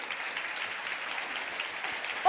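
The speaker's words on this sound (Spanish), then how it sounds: "¡Un aplauso para Pedro!" A theatre audience claps steadily in honour of a participant named Pedro, a uniform, moderately loud patter of many hands sustained throughout.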